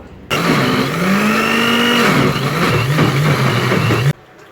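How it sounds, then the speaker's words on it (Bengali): A blender motor whirs loudly for about four seconds, its pitch sagging as it grinds dried fish, then cuts off abruptly. "এগুলোকে ব্লেন্ডার করে নিব"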